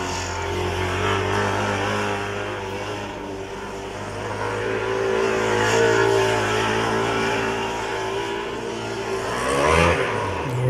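Formula Student combustion race car idling and revving on a skidpad after a minor stall, engine drone steady and loud throughout with a rising rev burst near the end.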